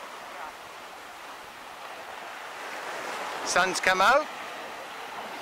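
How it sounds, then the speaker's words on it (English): Ocean surf at Waikiki Beach near Diamond Head, a steady, moderate wash of waves under a brief spoken comment from someone nearby. "The surf's actually come up a little bit."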